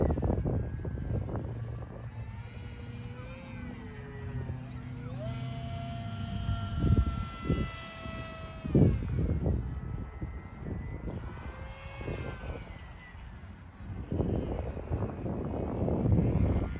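FT Versa flying-wing RC plane in flight, its electric motor whining with rising and falling pitch as it passes, loud near moments alternating with fainter stretches and wind noise.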